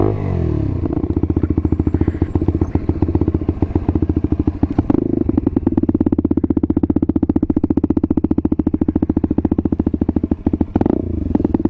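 Lexmoto motorcycle with an exhaust baffle fitted, running very loud: a rapid, even engine pulse close to the microphone that rises in pitch around the middle as the throttle is opened, then eases off near the end.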